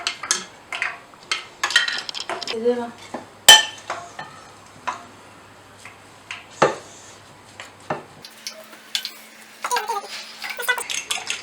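Chicken cutlet mixture tossed with chili, coriander powder and salt, with irregular clinks and scrapes of a utensil against a bowl, close and alone.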